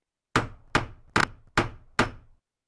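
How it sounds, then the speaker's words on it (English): Five evenly spaced hammer blows ring out in a children's tool-learning game, each a sharp, close knock with a short decay, no voices. "Hammer."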